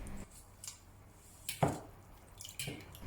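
Water drips and splashes from drained, soaked glass noodles, several sparse close drips and one wetter squishy splash, quiet and isolated.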